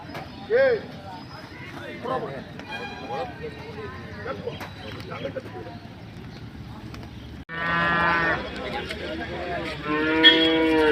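Cattle moo loudly at the Anthiyur cow market, one long low call near the end rising over busy crowd chatter, with people bargaining close by throughout.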